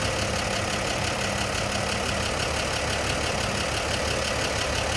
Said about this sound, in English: looks like that was a mid-50s 235 engine that is in this, according to the casting number. Smooth runner, sounds good.